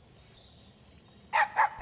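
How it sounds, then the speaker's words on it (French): Cricket chirping nearby in a quiet outdoor setting: two faint, high, sustained trills followed by a pair of louder bursts, with no talk. "un grillon grésillait non loin de là"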